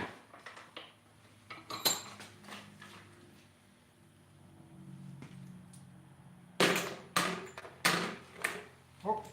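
A socket tool clatters and clanks against metal during a budget LS engine cylinder head rebuild, sharp metallic hits near the start and a burst of loud clinks later in the clip.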